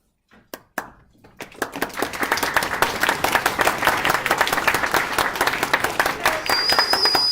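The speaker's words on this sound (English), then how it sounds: "they are clapping for you coming down versus clapping for my wonderful presentation" An audience claps for a guest being invited up at a dental board exam information session, starting with a few scattered claps and swelling into steady, dense applause that stays loud to the end.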